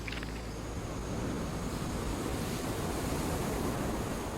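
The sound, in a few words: ocean waves breaking on a beach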